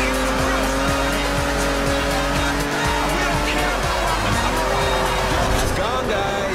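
Cars racing in the video game Forza Horizon, with loud, constant engine drones, shifting revs and tire squeals from a crowd of vehicles heading toward a festival, with talking over them.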